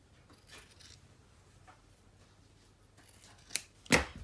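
Scissors trim quilt fabric in a quiet room, giving a few faint rustles followed by two crisp, close snips near the end.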